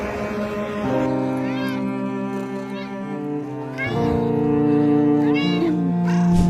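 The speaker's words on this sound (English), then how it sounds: "save this poor baby kitten who was helplessly stuck there" A stranded baby kitten on a highway meows repeatedly in loud, rising and falling cries, several distinct calls spread over steady background noise, with no clear talk.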